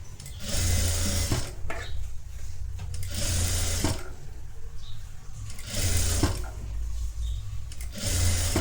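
An electric sewing machine stitches folded blouse fabric in rapid whirring bursts, four runs of close, steady needle chatter separated by short pauses, heard alone.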